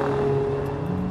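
A Mercedes-AMG CLA45 runs at high speed on a race track, its engine holding a steady, loud drone with a faint whine throughout.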